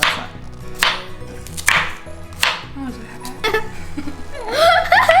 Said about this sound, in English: we're going to chop up the tomatoes